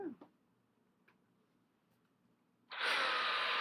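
An iTeraCare terahertz wand's blower starts up after a few faint clicks and runs as a loud, steady airy whoosh close by.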